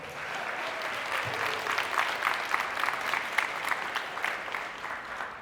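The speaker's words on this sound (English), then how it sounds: "We can clap it up for my mom." Sustained audience applause at a speech event honoring the speaker's mother, steady dense clapping throughout at moderate loudness with faint crowd murmur underneath.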